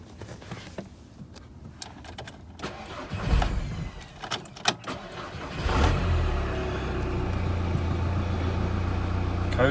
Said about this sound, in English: let's start the car again